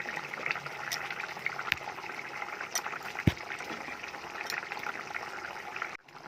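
Water boils in a cooking pot, a close bubbling simmer with scattered pops and crackles throughout, ending with a brief clunk.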